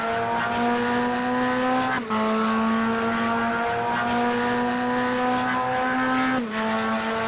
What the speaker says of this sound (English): Listen to that Corvette purr